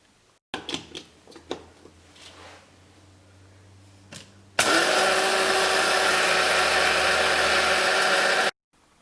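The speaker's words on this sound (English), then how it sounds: "Make sure to grind it into a fine powder." Roasted spices for Sri Lankan curry powder are ground in an electric grinder: a few sharp taps and rattles first, then the motor roars on loudly and steadily for several seconds before cutting off.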